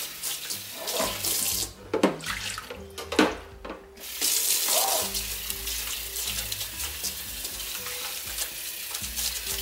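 Tap water runs steadily while freezer ice trays are rinsed during a spring clean of a fridge and freezer, a continuous close splashing rush that briefly thins and changes tone as the trays move under the stream.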